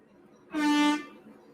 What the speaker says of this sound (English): That's a big air horn